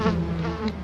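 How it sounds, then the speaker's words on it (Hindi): Flies buzz steadily around a wounded man lying bleeding in a room, a close, continuous insect drone filling the short moment as a horror-story sound effect. "कमरे के अंदर इस जख्मी हालत में खून की वजह से मक्खियां भिनभिनाने लगी"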